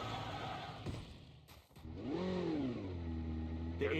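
A motorbike engine revs in a battle royale video game, rising in pitch over a steady droning engine bed with a sharp whoosh in the middle, loud and close with no speech.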